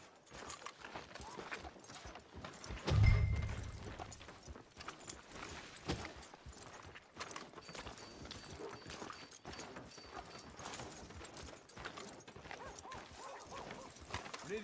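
Horse hooves clip-clop at a steady walking pace in Red Dead Redemption 2, amid a busy, noisy background, with a louder thump near the start.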